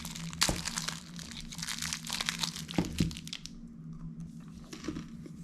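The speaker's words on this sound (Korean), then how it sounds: "뜯어볼게요." A Mexican peanut snack wrapper is torn open up close, with crinkling plastic, sharp cracks and a quick rip over several seconds before the rustling fades out.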